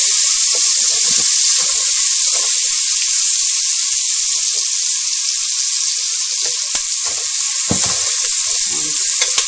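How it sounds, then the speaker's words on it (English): Sliced onion with curry leaves and a little salt fries in a pan for a Mangalorean chicken curry, giving a loud, steady, close sizzle throughout, with a brief clatter near the end. "Allow this onion to fry nicely."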